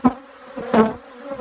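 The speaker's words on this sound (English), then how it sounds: "We didn't use our smoker, and these bees are angry as angry." Close, loud buzzing of angry honeybees swelling and fading as they fly past, with a low droning hum in between.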